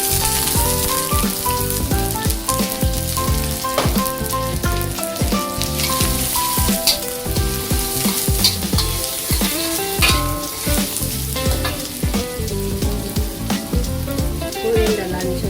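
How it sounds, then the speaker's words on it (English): Garlic and shallot sizzle loudly in a hot pan while being stir-fried, a dense continuous crackle with scraping stirs and utensil clatter throughout. "Stir fry the bawang,"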